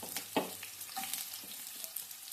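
Chopped onion and curry leaves fry in hot oil for a ridge gourd curry: a soft, steady sizzle with a few sharp clicks of stirring, quiet and without any talk.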